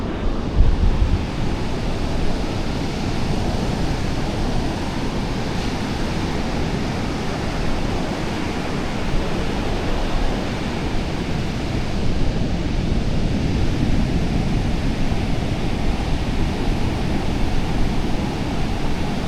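Ocean surf breaks continuously on a beach, a steady full roar of waves mixed with gusting wind buffeting the microphone, with no voices throughout.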